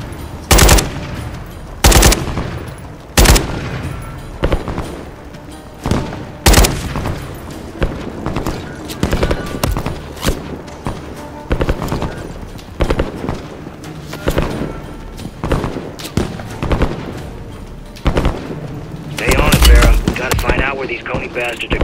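Enemy gunfire in Call of Duty: Modern Warfare III: sharp loud shots and bursts of automatic fire mixed with booming impacts, irregular and continuous over about twenty seconds, with battlefield clatter and occasional voices underneath.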